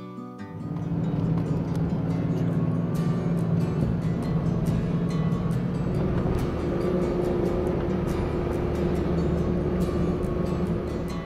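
A 4-wheel drive vehicle travels a 4WD-only track at Mt Moffatt in Carnarvon National Park, a steady engine drone with rumbling road noise and scattered clicks and knocks, continuous and fairly close.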